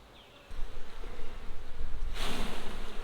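Honey bees drone steadily in a continuous close buzz during an opened-hive inspection, swelling louder as the comb is exposed and the swarm grows intense.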